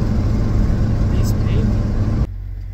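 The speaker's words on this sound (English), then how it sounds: "I'm just cruising around. This truck is just so much fun to drive." A 1980–86 Ford bullnose truck cruising along a road, heard from inside as a loud, steady low engine drone with road noise that drops away sharply near the end.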